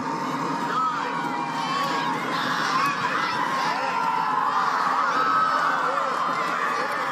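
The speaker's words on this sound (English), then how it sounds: "A slightly partial crowd will help count things down." A crowd at a 2022 NCAA women's college soccer game, Western Washington vs Columbus State, keeps up a steady mix of shouts and chatter throughout. Individual count-down calls cannot be picked out.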